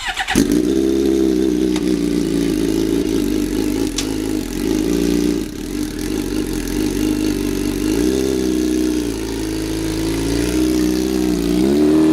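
A track motorcycle engine runs close and loud as the bike is ridden up the back into a vehicle at a bike shop, a continuous rumbling drone with throttle blips and revs rising and easing.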